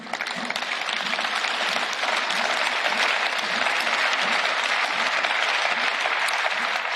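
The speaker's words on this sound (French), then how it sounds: "Jean-Claude Juncker, encore une fois très applaudi après avoir été interpellé par Guy Verhofstadt." Sustained, loud applause fills the European Parliament chamber, a dense even roar of many hands clapping that holds steady for several seconds.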